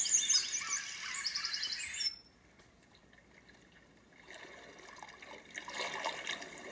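Chirping bird call setting from an ICETEK white noise machine, a bright steady twittering bed for about two seconds, then a quieter pause before a fainter airy bird-and-water ambience returns, with no talking.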